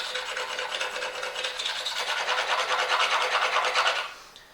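Rapid rhythmic rasping as a knife blade is stroked back and forth on a simple sharpening block, close and loud, growing a bit stronger before stopping abruptly near the end.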